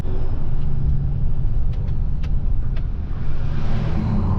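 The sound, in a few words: Infinity Custom Harvesting truck driving by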